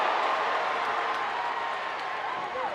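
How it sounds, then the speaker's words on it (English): Boxing crowd at a Guns N' Hoses bout roaring and cheering steadily as a fighter lands hooks, a dense continuous wash of voices with scattered claps, loud and close throughout. "They got the crowd up on their feet."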